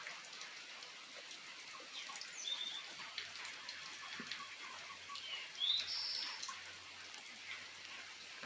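Rain drips and patters softly outdoors near a chicken coop on a rainy day, a faint steady wash of drops with occasional birds chirping in the background.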